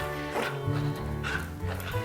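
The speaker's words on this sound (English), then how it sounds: "You notice that Deuce is really excited because he loves this game and he's vocalizing quite a bit" Deuce, an excited dog, vocalizes during a game of tug, with repeated whining, growly yips and grumbles rising and falling close to the microphone.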